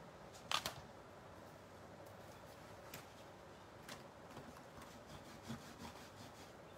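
Paint being rubbed back on an art journal page makes a soft, faint scrubbing rasp, with one brief scuff early on and quiet rubbing afterward, close up with no talking.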